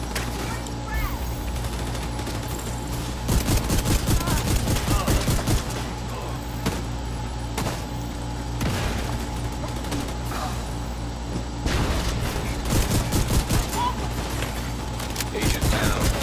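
Gunfire fills a firefight in The Division 2, with dense bursts of rapid shots crackling in clusters over a steady din of battle. Sharper volleys stand out at intervals, and voices are heard during the fighting.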